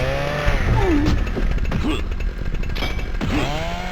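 Chainsaw wielded by an enemy in the game Nightmare Creatures II, a loud continuous buzzing engine drone with revving pitch sweeps, mixed with other game sounds.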